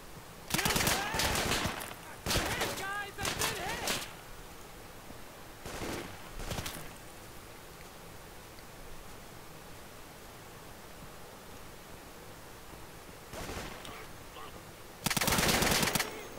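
Bursts of automatic gunfire in the video game Insurgency, several loud rattling volleys separated by quieter stretches, with a voice speaking between some of them.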